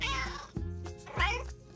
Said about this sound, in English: Cats love to eat fish.